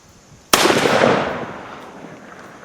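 A single Winchester Longbeard XR turkey load fired from a shotgun: one sharp, loud blast followed by a long rolling decay that fades over about two seconds, with no voices.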